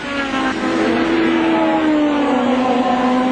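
Formula One race cars at the 1981 Australian Grand Prix scream past with a high, sustained engine whine that slides downward in pitch as they go by, loud and close with no talk.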